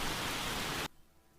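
Steady rain in a cartoon story, a dense full hiss of falling water, loud and even, that stops abruptly partway through and leaves near silence.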